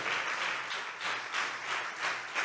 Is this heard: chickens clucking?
no